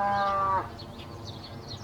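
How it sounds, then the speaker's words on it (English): A hungry cow moos once in a drawn-out, tonal call lasting about half a second, fairly near, then breaks off into quieter rural background noise. "Don't you hear the cow mooing over there?"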